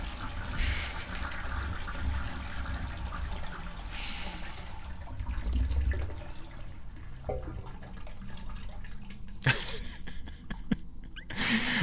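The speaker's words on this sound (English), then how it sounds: "for the Mega Flush. We haven't heard one of those in a while." A Mega Flush alert sounds as a toilet flush, a long rushing swirl of water with gurgling and trickling that fills the clip at moderate level, with a few sharper splashes near the end and no talk.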